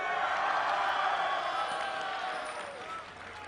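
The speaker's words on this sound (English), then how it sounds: "Let me hear you guys in the crowd." A large esports tournament audience at a quarter-final match roars and cheers in a steady wash of crowd noise, loud and diffuse throughout, slowly easing off toward the end.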